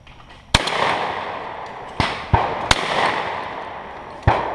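Several sharp shotgun blasts at a clay target shoot, about five reports spread unevenly over a few seconds, loud and close with a rolling echo after each, over a steady outdoor hiss.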